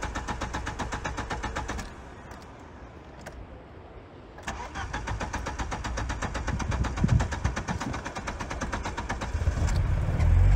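An Audi A6 C4 sedan running on LPG cranks and starts. Its engine then settles into a steady, close idle that grows louder and rougher toward the end, with no talking.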